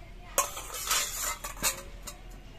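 A spoon scrapes and clinks against a bowl while mixing banana flower with egg, a few sharp metallic taps and short scraping strokes close by, with no talking.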